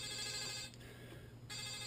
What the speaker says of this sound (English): Who's blowing up my phone here?